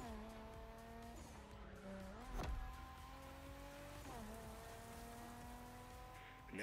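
Racing-game cars in The Crew Motorfest drive through a tunnel, engine tones rising and shifting with gear changes and a sharp whoosh as one passes close, echoing steadily throughout.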